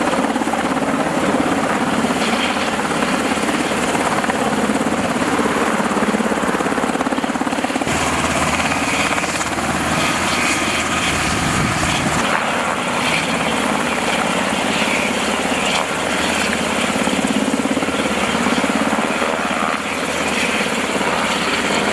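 A Black Hawk helicopter's heavy, continuous thudding roar fills the air close by during air assault training, holding steady throughout with no voices.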